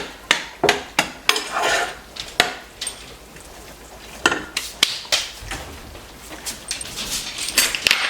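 Corn seasoned with salt and pepper being stirred in a pot, a spoon knocking against the sides in a series of sharp, irregular taps and scrapes, close and distinct with no talking.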